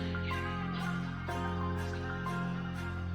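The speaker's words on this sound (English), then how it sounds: "And the second part with the bass and the strings sounds like this." Trap beat section built in FL Studio, deep sustained bass under layered strings with a steady repeating rhythm, full and loud with no voices.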